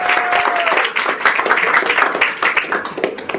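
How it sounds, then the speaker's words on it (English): An audience at a radio station's hall of fame induction dinner breaks into applause, a dense, steady patter of many hands clapping that carries on throughout, with a brief tone at the start. "You can clap that."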